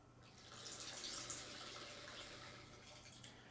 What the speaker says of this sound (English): I mean, you heard it pour